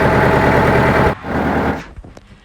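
A loud tractor engine running steadily for about a second, then cutting off and winding down, followed by a few faint clicks.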